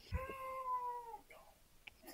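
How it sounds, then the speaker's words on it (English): A cat gives one drawn-out, fairly faint meow with a wavering pitch, followed by quieter rustling and short noises. "That was a cat."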